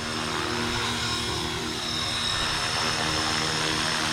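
A Blade Fusion 360 3S smart RC helicopter hovers nearby, its rotor whine and motor hum steady and continuous throughout, with no talking.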